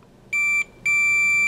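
A continuity tester beeps as its probe touches a circuit board test point: two steady electronic tones, a short one followed by a longer one, loud and close with nothing else heard.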